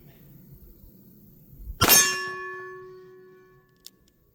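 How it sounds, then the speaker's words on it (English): A single loud metallic clang from a 10mm Colt Peacekeeper round striking a steel target at a firing range, ringing out and decaying over about two seconds, followed by a faint second ping. "Let's see if I can get a headshot on one of these targets with the 10mm."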